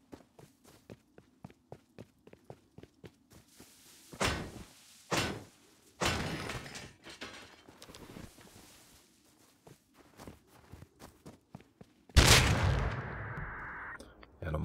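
Gunfire in the survival video game Rust at a freight rail yard: a steady run of quiet, evenly spaced shots, several louder blasts in between, then a sharp loud burst near the end with a ringing tail.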